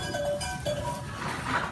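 A few short bleats of a crossbred breeding sheep rise over a busy outdoor background, one near the start and one around the middle, no talking.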